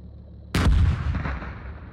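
A tank cannon fires once in the PC tank simulator Gunner HEAT, a sudden heavy boom followed by a long rumbling decay over a faint steady engine hum.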